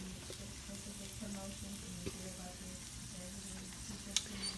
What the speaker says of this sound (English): And the sizzle that you see is what you want.